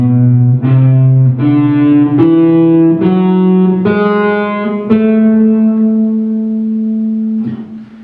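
Guitar plays an ascending melodic minor scale with a raised seventh, through an effects unit with distortion and some chorus and reverb; seven or so distinct sustained notes step upward at an even pace, loud and alone.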